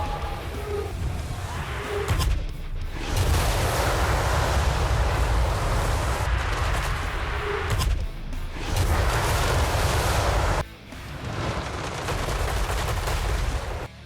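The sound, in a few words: Cluster Shot cannon fire in video game Total War Warhammer 3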